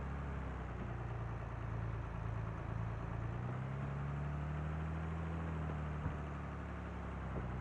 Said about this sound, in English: Definitely the best tractor for the job.